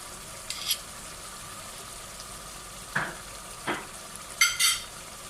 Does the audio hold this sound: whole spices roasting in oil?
yes